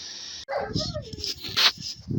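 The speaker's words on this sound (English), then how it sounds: "And of course the puppies start whining as soon as I do this." Puppies whining indoors: a couple of high, thin whimpers and yips in quick succession, close by, mixed with some handling noise.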